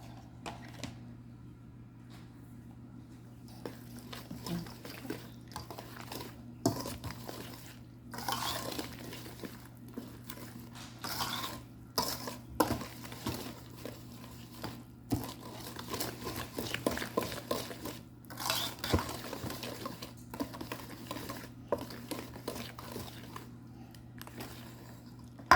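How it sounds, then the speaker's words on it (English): Three eggs being whisked in a bowl for French apple pie, a quiet run of quick clicking beats and taps against the bowl, irregular bursts with short pauses, nearby and faint. "All right, we're going to mix the eggs up."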